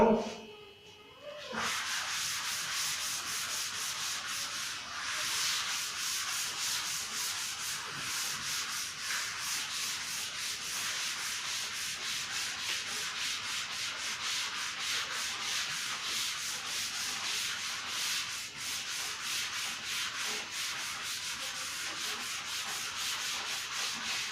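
A classroom board is rubbed clean after a maths lesson on matrices, a steady, continuous scrubbing and rubbing that stays close and even for over twenty seconds, with no one talking.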